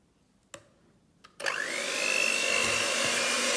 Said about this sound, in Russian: Смешивали мы два крема на самых маленьких оборотах